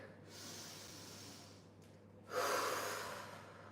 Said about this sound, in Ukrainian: Робимо ще один глибокий вдих.